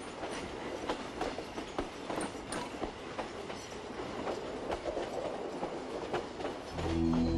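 Rocky Mountaineer passenger train heading northeast from Kamloops on Canadian Pacific tracks, a continuous rumbling roll with rhythmic clickety-clack of wheels over rail joints, heard from on board and growing slightly heavier at the end.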